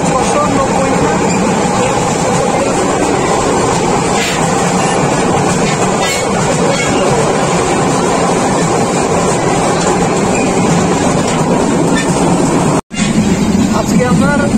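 Chattala Express passenger train running from Dhaka to Chittagong, a loud continuous rumble and rattle heard from inside a carriage, with a brief cut near the end.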